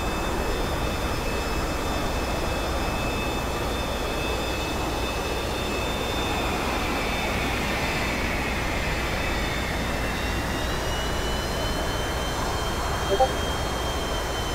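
T-45C jet in a flight simulator game taxiing slowly on an aircraft carrier deck, a constant loud turbine roar and high whine with slowly drifting pitch throughout.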